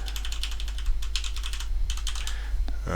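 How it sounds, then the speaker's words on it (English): Fast, steady typing on a computer keyboard, close up, with crisp key clicks in quick bursts over a low background hum. "If you hear the keyboard"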